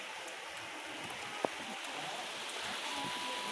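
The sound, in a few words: light rain in the late afternoon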